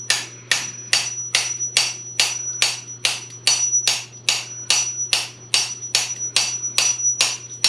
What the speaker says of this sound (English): We're gonna give it a little tap or two with that.